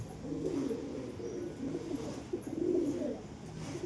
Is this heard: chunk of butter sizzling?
no